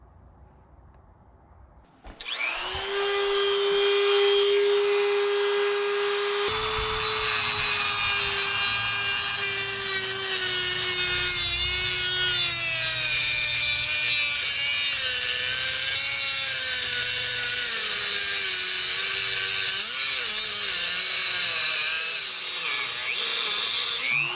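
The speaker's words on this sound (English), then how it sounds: "It's kind of hard to get the Dremel angled right." A Dremel rotary tool cuts through a sway bar link on a Jeep Gladiator Mojave. A loud, close, high-pitched whine starts after about two seconds and holds steadily, its pitch wavering as the cut loads it. No one speaks.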